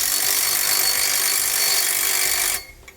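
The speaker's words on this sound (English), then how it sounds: "I'm going to come back with a 9/16 socket and I'm going to snug up the two flange bolts here on the bottom." A 9/16 socket ratchet wrench snugging up flange bolts while SumoSprings Maxim helper springs are installed on a 2018 Jayco Precept, a steady rasping clatter at close range that stops abruptly near the end, with no talk.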